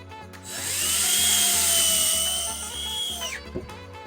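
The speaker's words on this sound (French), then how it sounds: "ce qui me facilite la tâche pour visser les charnières" A power drill drives screws into the hinges of a half swinging door resting on blocks, one sustained whining run of about three seconds, close and loud, winding down at the end.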